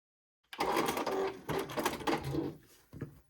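A sewing machine chain-pieces quilt block pieces with a steady, close mechanical whir in two bursts separated by a short pause, ending with a brief final stitch run.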